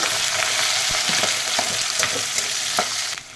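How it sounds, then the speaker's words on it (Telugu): Chopped onions and green chillies sizzle steadily in hot oil with tempering spices, close and loud, with occasional stirring clicks and no talk. "ఉల్లిపాయ ముక్కలు పచ్చిమిరపకాయ ముక్కలు కూడా వేసుకొని లైట్గా వేయించుకోవాలి"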